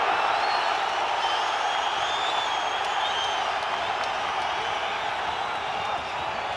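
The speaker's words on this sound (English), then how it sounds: "Crowd trying to rally support for Kambosos here" Arena crowd at a Kambosos vs Haney undisputed title boxing match, in the final minute, keeps up a steady, dense roar of cheering and applause in support of Kambosos.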